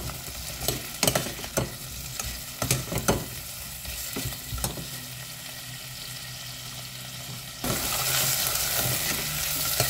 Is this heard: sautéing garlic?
yes